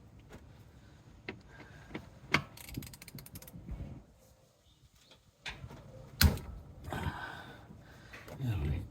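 A ratchet loosens the TX50 sump bolt on a Jeep Wrangler JK 2.8 CRD during an oil change, giving close clicking runs and metallic knocks scattered through the clip, with someone talking over parts of it.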